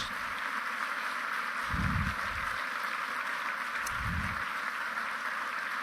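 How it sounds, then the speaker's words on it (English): Round of applause at an evening gathering for the heads of a hundred charities: steady crowd clapping as a constant wash, joined by two brief low rumbles, moderately loud throughout. "I'd like you to give them a round of applause."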